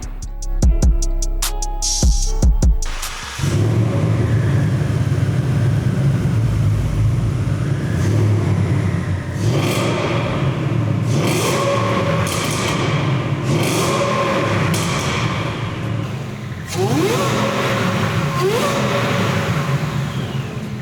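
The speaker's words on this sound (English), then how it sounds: "you're gonna be able to appreciate the supercharger whine coming from the Whipple Gen 5" A Ford Mustang fitted with a Whipple Gen 5 supercharger revs hard. A loud burst opens it, then a steady idle rumble is broken by several sharp throttle blips rising in pitch, with supercharger whine and exhaust roar and no talking.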